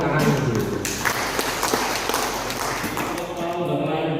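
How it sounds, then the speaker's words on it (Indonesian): Audience applause at an Indonesian academic ceremony where an education minister hands over professorship decrees to two new professors: steady, dense clapping fills the hall throughout, with voices mixed in underneath. "Tepuk tangan dulu."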